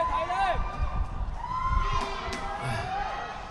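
Fans shouting and cheering at a football match, a lively crowd with high excited voices and whistles rising and falling, fairly close, with someone talking over the noise.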